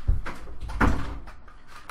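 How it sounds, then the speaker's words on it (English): A room door is pulled shut during a Minecraft gaming session, giving a few soft knocks and a firmer thud near the middle, close and fairly quiet. "let me just close my door."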